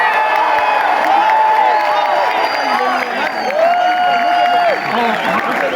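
Audience at a mushaira poetry recital at Quaid-e-Azam University, Islamabad, applauding and cheering steadily as a poet is welcomed, a dense, continuous crowd roar with whoops and murmured voices throughout.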